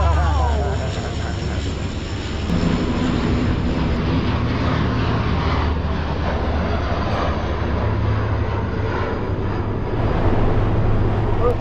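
A continuous low roar of propeller aircraft in an air parade over Madrid, passing overhead at a distance, steady and droning, with faint voices in the background.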